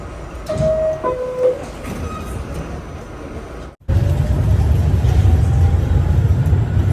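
A New York subway train on a rainy day rumbles along with brief metallic squeals and tones, then cuts to a louder, steady roar of rolling wheels.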